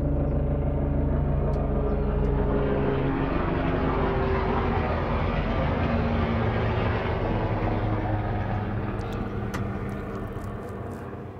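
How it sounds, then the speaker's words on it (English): A helicopter passes overhead, a loud continuous low rumble and whir that holds steady for several seconds and then slowly fades as it moves away. "there's a helicopter flying overhead"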